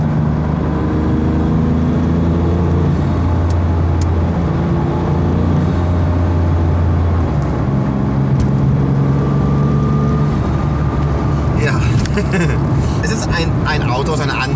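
A Porsche 959 on the move, its engine a loud, steady drone heard from inside the car, with pitch slowly shifting as it pulls along and a brief rise in rushing noise near the end.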